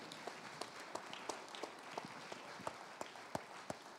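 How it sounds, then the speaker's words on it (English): Applause at a benefit auction, a soft, distant patter of clapping with a few louder individual claps standing out over a faint crowd murmur. "All right, give yourself a round of applause."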